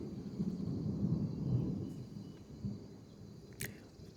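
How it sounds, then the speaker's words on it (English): Low thunder rumbling outdoors in a fantasy role-playing game set near a druid grove, a soft, rolling rumble swelling and fading at a distance, fairly faint, with a brief sharp crack near the end. "Now, we do have some thunder rumbling outside"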